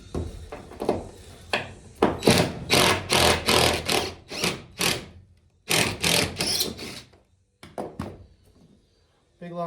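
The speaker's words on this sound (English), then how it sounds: "and so I'm having to take them out with a grinder." An angle grinder cuts out rusted screws on a 1971 Holiday Rambler vintage camper, in a series of short, loud, rhythmic bursts with brief pauses between them. Talking is heard briefly.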